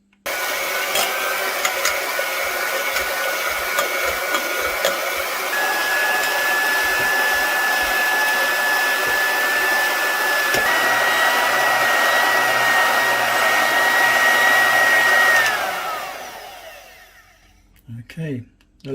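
Electric mixer creaming sugar mixture for an orange Swiss roll, a loud steady whine with a sustained tone that rises slightly midway, then winds down and stops near the end, followed by a few faint knocks.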